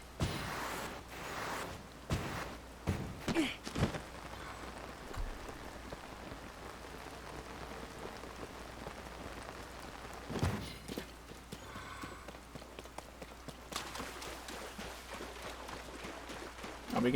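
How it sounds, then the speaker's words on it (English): Rain falling in the video game Zelda: Tears of the Kingdom, a soft steady patter with several sharper thumps and clopping hoof-like steps scattered through, fairly quiet overall. "Really wish it was not raining."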